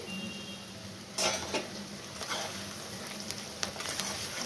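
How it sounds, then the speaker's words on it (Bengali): Chopped garlic dropped into onions frying in a pan for pav bhaji, a constant soft sizzle broken by several sharp scraping stirs and a spatula knock or two. "তারপরে এই রসুন কুচোনো দিয়ে দিচ্ছি"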